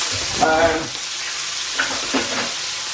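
Butter sizzling in a hot pan for a peppercorn sauce, a steady close hiss with a few brief stirring scrapes and faint voice-like murmurs in the background.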